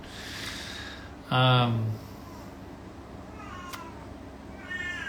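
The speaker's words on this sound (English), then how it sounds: "My cat wants attention." A cat gives one loud, drawn-out meow close by, with quieter ambient sounds before and after it and faint breathy noises near the end.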